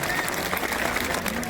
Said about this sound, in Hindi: कम से कम ताली को बजा दो